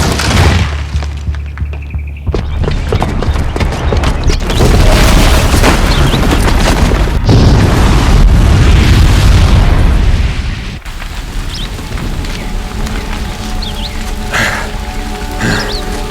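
A bomb's booby trap detonates in Horizon Zero Dawn, a long loud roaring blast with rumbling debris that carries on for many seconds before easing into a quieter, lingering rumble.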